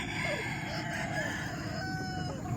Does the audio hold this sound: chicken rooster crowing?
yes